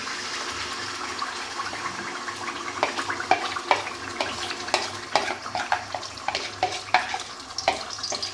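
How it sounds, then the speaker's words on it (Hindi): A yogurt mixture for mutton kofta fries in a pan with a steady sizzle, while a spatula scrapes and stirs in quick, repeated strokes close up. "इसको थोड़ी देर हम भूनेंगे"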